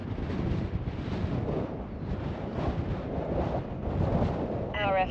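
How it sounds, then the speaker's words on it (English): Strong wind buffets the microphone during the landing of a ZOHD Alpha drone, a steady loud roaring rumble with gusty surges throughout, ending with a short electronic beep tone. "Jeez, that wind."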